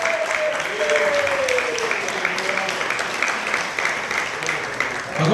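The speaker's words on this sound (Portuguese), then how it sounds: "Aplauda ao Senhor." A church congregation claps steadily for the Lord, a continuous wash of applause with a voice talking over it.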